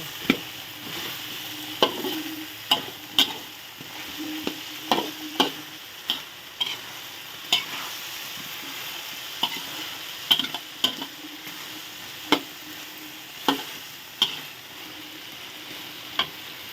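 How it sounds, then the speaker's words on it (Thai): Catfish stir-fried with curry paste, sugar and Thai eggplant in a pan: a steady low sizzle broken by frequent sharp scrapes and clacks of the spatula stirring, moderately close and without talk. "ผัดใส่กันไปเลย"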